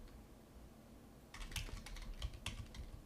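Quiet typing on a computer keyboard begins about halfway through, a short burst of faint, close key clicks following a near-silent start.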